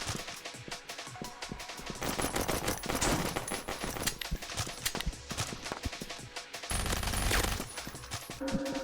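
Rapid gunfire from a dual-wielded SMG in a video game, dense bursts of shots crackling over a busy mix of game sounds, loud and continuous with brief lulls.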